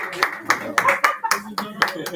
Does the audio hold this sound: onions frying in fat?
no